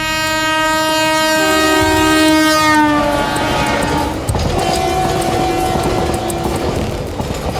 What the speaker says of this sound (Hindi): ये हमारी मालगाड़ी की रेल है साहब